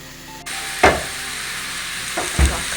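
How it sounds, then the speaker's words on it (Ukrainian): Onion frying in a pan for bigos, a steady soft sizzle with a couple of louder clatters of stirring, close by and with no voices. "У нас плавиться цибулька."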